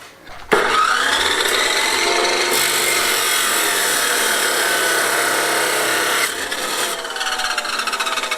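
A power cutting machine slices through stone for a South American parrilla build outdoors, starting abruptly into a loud, sustained grinding whine that holds for several seconds, shifts pitch partway and then eases off.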